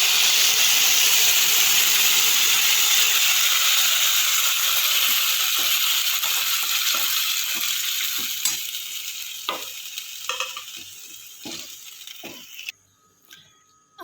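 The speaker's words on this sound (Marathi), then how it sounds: "आता आपण शिजलेले गहू परतून घेऊया" Cooked wheat being sautéed in ghee with toasted coconut for kheer starts as a loud hissing sizzle that slowly fades, leaving scattered stirring taps and scrapes before a near-silent end.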